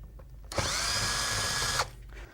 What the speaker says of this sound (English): first we have to remove all the Allen screws